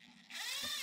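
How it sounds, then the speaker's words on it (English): A cordless screwdriver spins up at its standard speed setting, its steady high motor whine starting abruptly after a brief quiet moment and running on close and loud with no talking. "You'll use that for projects that you don't want to drill a screw all the way into a piece of wood. And you can actually hear the difference."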